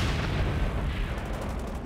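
Mortar fire in the Company of Heroes 2 real-time strategy game: a continuous rumble of distant artillery booms and impacts, loud and steady, with no talk over it.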